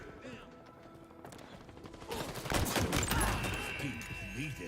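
Bursts of rapid gunfire in the video game Halo Infinite rattle in the distance, growing louder and denser midway, with faint talk underneath.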